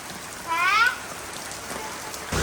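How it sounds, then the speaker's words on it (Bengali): Heavy morning downpour in a village gives a steady, dense hiss of rain striking surfaces, with a short higher chirp cutting through early on. "মুসুলধারে বৃষ্টি হচ্ছে সকাল থেকে প্রচণ্ড বৃষ্টি"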